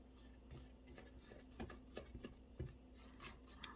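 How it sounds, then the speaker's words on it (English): A spatula scrapes down the sides of a mixing bowl of key lime pound cake batter, giving soft, irregular rubbing and scraping strokes at close range over a low steady hum, with no talking. "I'm going to actually stop this and lift that up and scrape down a little bit more"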